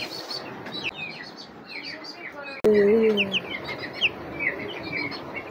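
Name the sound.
baby chicks chirping in a home farm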